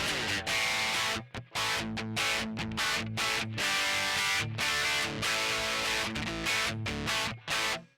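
A harsh, buzzy distorted electric guitar on the bridge pickup, played through an amp model straight into a direct signal, plays choppy chords with short stops between, the fizzy tone thin and dry rather than full.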